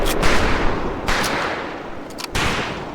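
Rifle gunfire in Medal of Honor Pacific Assault on a shooting range: loud, close bursts of automatic fire, three separate volleys with short gaps between them.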